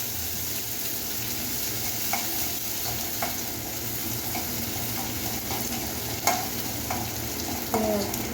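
Sliced onion stir-fried on high flame for Hakka noodles, a constant loud sizzle with intermittent spatula clicks and tosses against the pan, no talking.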